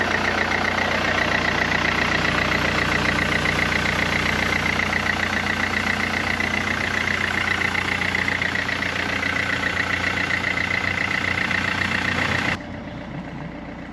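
A Mercedes C-Class engine idles steadily after a water pump and auxiliary belt replacement, a continuous close mechanical hum with a faint ticking texture that drops off abruptly near the end.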